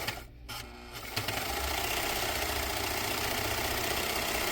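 A serger stitches a rolled hem with woolly nylon thread, starting after a brief pause and then running at a steady, fast mechanical whir close by, loud and continuous with no talking.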